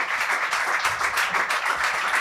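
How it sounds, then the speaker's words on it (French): A concert audience applauds the musicians on stage, a dense, even burst of clapping filling the whole stretch with no voices over it. "Je vais vous demander d'applaudir encore tous les musiciens"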